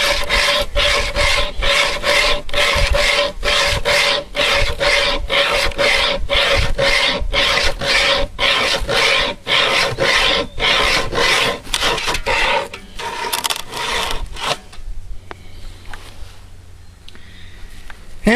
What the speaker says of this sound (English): I'll finish on sawing on my firewood here